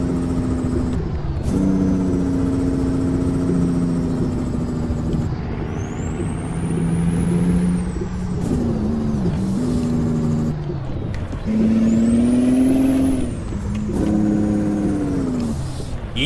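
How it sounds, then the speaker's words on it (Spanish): A SISU C500 truck's engine brake in Euro Truck Simulator drones loud and continuous, its deep harmonic roar rising and falling in pitch across several pulls on winding Norwegian roads, with no talking. "Freno motor,"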